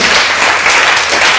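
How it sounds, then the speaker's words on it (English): Audience applause fills a church service, a dense, steady wash of clapping sustained loud and close throughout with no break. "Let's clap for Jesus one more time."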